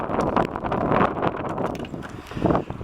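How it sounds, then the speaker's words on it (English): Gusty wind buffets the microphone outdoors at an EV charging point in Blyth where a Hyundai Ioniq is being charged, a steady, rough, close rumble that swells and eases for the whole stretch with no other clear sound. "Of course, we're now going to be hit by wind."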